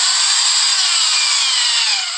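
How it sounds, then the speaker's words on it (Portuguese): A power tool bores a hole through the middle of a wooden stingless-bee hive box, the base nest box. It gives a loud, close, steady whir that runs unbroken for the whole stretch, with no talk. "E é preciso fazer esse furo no meio."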